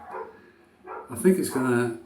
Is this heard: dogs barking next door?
yes